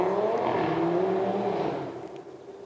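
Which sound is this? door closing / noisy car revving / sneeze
noisy car revving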